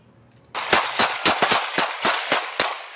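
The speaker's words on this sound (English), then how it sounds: "You can hear the officer reloading his gun as bullets ring out." A burst of sharp gunshots from a shooting spree, about ten loud cracks in quick irregular succession after a brief quiet start, close and echoing.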